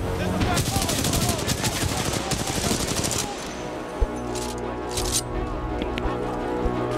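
Supporting gunfire in the Blood and Rust video game comes as a dense, rapid burst of loud shots for about three seconds, then thins to a few isolated reports over a lingering droning background.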